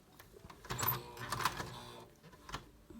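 A sewing machine stitches a zipper in short, uneven bursts of rapid mechanical clatter and whir, fairly quiet and close, with brief pauses between runs.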